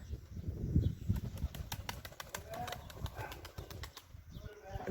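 Wings flap and clatter as several tumbler pigeons fly in and land nearby, a burst of fluttering over faint outdoor background noise.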